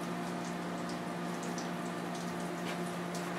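Bangers sausages fry in a hot skillet with a steady, even sizzle and a low hum underneath, and no one speaks.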